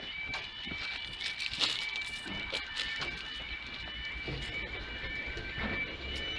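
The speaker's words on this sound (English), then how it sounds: "trains here" A train runs through the Farnham Station level crossing in Surrey, giving a faint rumble and a series of rhythmic wheel clicks, while a warning tone rings steadily over it and a voice talks now and then.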